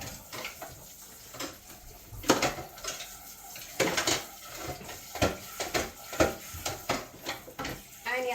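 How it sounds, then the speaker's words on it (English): Dishes being rinsed in a kitchen sink after keto chocolate toffee bar baking, with a steady run of water under repeated clinks and knocks of pots, pans and cutlery, close and moderately loud, without speech. "I'm just going to rinse it off and stick it in my sink"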